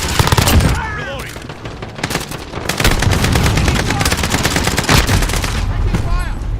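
Dense, loud Call of Duty Modern Warfare gunfire, with rapid machine-gun bursts and overlapping shots rattling continuously at close range, broken by brief shouted voices.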